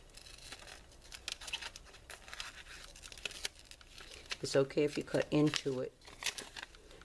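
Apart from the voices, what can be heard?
scissors cutting out a paper picture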